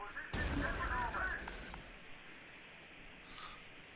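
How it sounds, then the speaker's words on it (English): A Civil War cannon fires in the war game Close Combat: Last Stand Arnhem, a single loud blast with a rumbling tail fading into quiet battlefield ambience. "Boom! Civil War cannon!"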